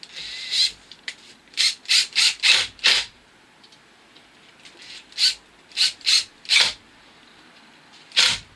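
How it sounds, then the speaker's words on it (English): Impact driver with a star bit tightening short screws into VELUX window brackets: repeated short rattling bursts in uneven clusters, close and loud, with quiet gaps between. "with my star bit in my impact driver, I'm now going to tighten up these brackets using the short screws in the set"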